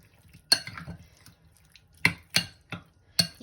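Sour cream mixed into enchilada filling in a bowl, with a few scattered wet clinks and scrapes of a utensil against the bowl, spaced apart and close by in a quiet kitchen.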